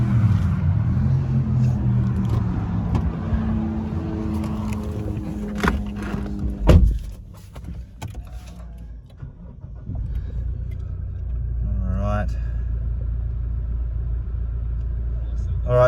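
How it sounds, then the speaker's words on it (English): A 2016 Toyota Prado GXL engine cranks and fires with a sharp catch, then settles into a steady low idle rumble; a voice talks over the start. "we just started up the vehicle."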